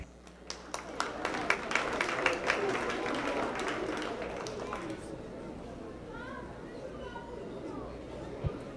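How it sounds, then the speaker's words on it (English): Crowd applause for dairy showmanship exhibitors at the 2026 Dodge County Fair, clapping most dense in the first few seconds then thinning as chatter and background voices take over, moderately distant. "Let's give those exhibitors one last round of applause."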